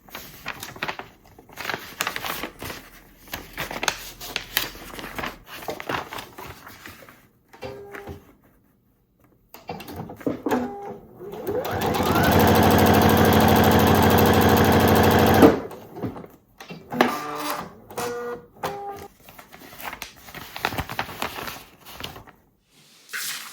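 A sewing machine stitches pieces of a summer quilt block together in one loud, steady run of a few seconds, framed by quieter handling noises and small clicks before and after.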